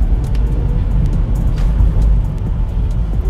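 A 150-horsepower electric car accelerating hard on the road, with a loud, steady low rumble of road and wind noise throughout, without speech.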